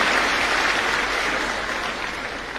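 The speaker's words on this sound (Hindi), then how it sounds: "जोरदार तालियों से आइए शामिल रहें इस अभिनंदन में।" Steady, dense applause from an audience at a ceremony honouring Delhi government school students, broad and even with no voices rising above it.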